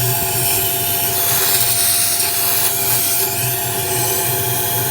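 A shop vacuum sucks through a garden hose bent down into an engine's intake manifold, a loud steady roar with scraping, rattling grit and small loose debris ticking through the hose.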